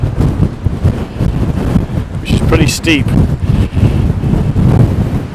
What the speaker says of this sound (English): it's real windy now